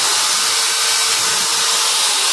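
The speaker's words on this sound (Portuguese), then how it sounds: "Com uma furadeira, uma broca de madeira de 6 milímetros." Electric drill fitted with a 6 mm wood bit, a steady high-pitched whir running continuously and close by with no pauses and no talk.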